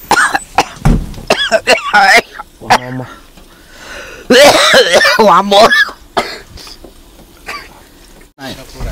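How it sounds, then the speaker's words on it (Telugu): Repeated coughs and throat clearing from people in a rural home, sharp bursts breaking up close, loud talking throughout. "మాకు దగ్గులు ఎక్కువ వస్తున్నాయి"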